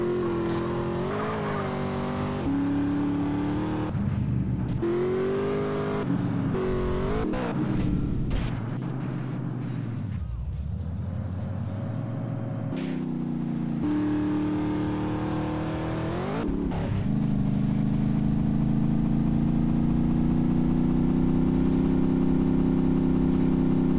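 A car in the video game GTA San Andreas is driven fast, its engine revving and roaring with sharp pitch swings as it accelerates and shifts, with brief tyre squeals and bursts, then settling into a steady high drone.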